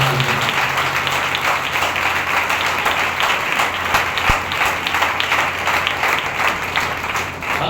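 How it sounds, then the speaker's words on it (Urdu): A church congregation at a Sunday service breaks into loud, sustained applause, dense clapping filling the room steadily from start to finish with no talk over it. "آئے زوردار تالیاں بجائیں خدا کے جلال میں"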